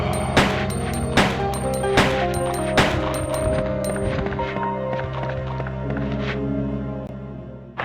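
Repeated gunshots fired at a zombie in Resident Evil 2, about six sharp, loud reports spaced roughly a second apart over a steady musical background, with fainter impacts trailing off later.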